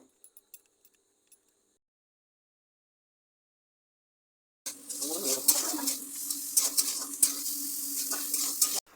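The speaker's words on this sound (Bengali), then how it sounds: "তেলটা একটু গরম হয়ে আসলে আমি পেঁয়াজ কুচি আর টমেটো কুচিটা দিয়ে দেবো হালকা ভেজে নেব পেঁয়াজটা" Chopped onion and tomato drop into hot oil and fry lightly, a sudden bright sizzle bursting in after several seconds of near silence and continuing steadily with small crackles, close up.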